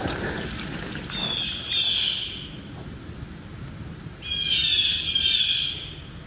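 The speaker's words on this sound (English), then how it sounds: "When the blue jays are a-squawking, the deer are a-walking." Blue jays squawk in late-summer Central Pennsylvania woods, two harsh raspy bursts of calls a few seconds apart, fairly close and loud over quiet outdoor background.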